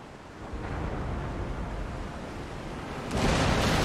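Cannon fire from warships in Empire: Total War, a steady rumbling roar of naval battle that swells into a louder, harsher burst near the end, with no talk over it.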